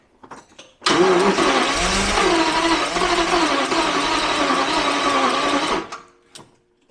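A Jaguar V12 engine turns over and catches, running roughly and loudly for about five seconds with a steady busy rumble before cutting out, with brief mechanical clicks before and after.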